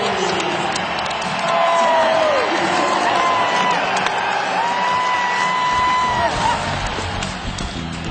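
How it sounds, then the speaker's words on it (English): A basketball arena crowd roars and cheers as the Nuggets run a fast break against the Jazz, a loud sustained wash of voices with rising whoops and shouts. "Listen to the crowd."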